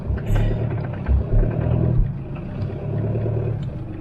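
A car engine rumbles and revs up while sitting out of gear, a low steady drone with a couple of brief rises in throttle, heard from inside the vehicle with no talking.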